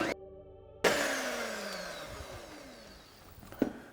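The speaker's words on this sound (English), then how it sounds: "And again, mix it at a slow pace so it doesn't fall" An electric mixer runs at slow speed, folding whipped cream into chocolate mousse dough. The whirring motor starts abruptly and fills the room, then gradually eases, with a brief clunk near the end.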